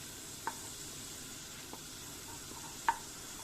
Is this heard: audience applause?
no